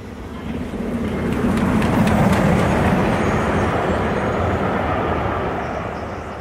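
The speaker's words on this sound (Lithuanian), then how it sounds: "Į priešingą pusę nudundėjo dar vienas švytintis greitasis traukinys." A glowing express train rumbles past as a sound effect, a loud, dense roar that swells and holds steady before slowly easing off, with no voices.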